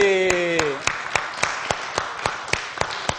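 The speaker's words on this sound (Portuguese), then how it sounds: "vamos aplaudir o nosso presidente, Dr. Valdir." Audience at an IEAD Palhoça church service applauds the church president, beginning as a short burst of clapping that thins into sparse, scattered claps after a voice trails off at the start.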